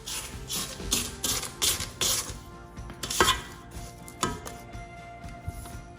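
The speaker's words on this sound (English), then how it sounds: "Now I'm going to scrape down the sides of my mixer." Spatula scraping down the sides of a stand mixer bowl of creamed butter and sugar for cornflake chocolate chip marshmallow cookies, a series of close scraping strokes and clanking knocks against the bowl.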